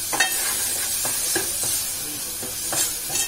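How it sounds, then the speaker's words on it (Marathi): Malvani masala paste for black-pea sambar sizzling in a pan over high flame, with a steady frying hiss broken by repeated scrapes and stirs of a spoon, close up and without talk. "मोठी गॅस करून चांगला परतून घ्यायचा."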